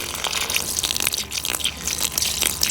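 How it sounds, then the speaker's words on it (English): A garden hose sprays water over a horse's hooves and legs as it is washed, a steady broadband hiss and splatter running continuously, close and fairly loud. "Here comes the water."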